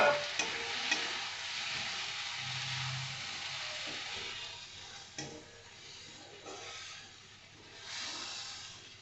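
Chopped tomatoes fry with onions in a pan for a soybean curry, producing a soft continuous sizzle broken by repeated stirring scrapes and light clicks, fairly quiet and close.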